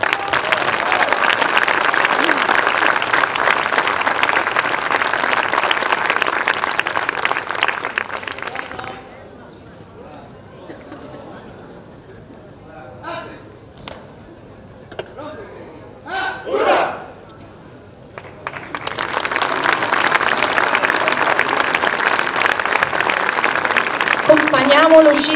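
A large outdoor crowd applauds and cheers loudly for a Bersaglieri fanfare band from Roccafranca, dropping into a quieter stretch with scattered claps and voices before swelling back into sustained applause.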